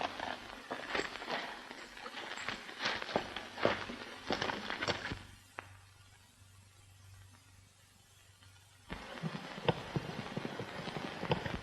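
Horse hooves clop in a rocky western canyon setting, a brisk irregular clatter for several seconds, then a stretch of near silence before the hoofbeats return, closer and sharper.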